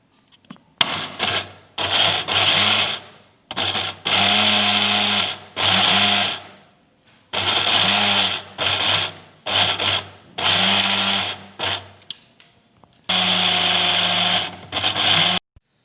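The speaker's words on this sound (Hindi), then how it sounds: "मेरे पास ये जो ग्राइंडर है इसका थोड़ा प्रॉब्लम था, सही तरह से इसने बहुत बारीक नहीं किया" An electric grinder with a slight fault, grinding white sesame seeds to powder, whirring in a string of loud close bursts of a second or two each, with short silent gaps between them.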